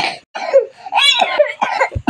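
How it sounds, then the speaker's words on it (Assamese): A boy coughs repeatedly in short, harsh bursts at close range, with a few throat-clearing sounds mixed in. No other sound competes with the coughing. "ল'ৰাটো কাহ হৈছে দেই"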